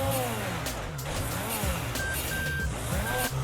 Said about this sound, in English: What am I, a friggin' box truck? What's with the beep beep?